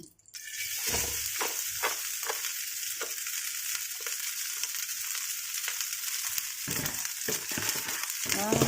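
Leftover cooked rice fries and sizzles in a pan with egg for salted fish fried rice, a continuous close crackle broken by repeated scraping stirs of a utensil.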